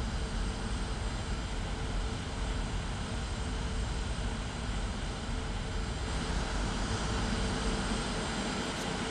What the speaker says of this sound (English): Put some power. We're just going to do a rolling takeoff.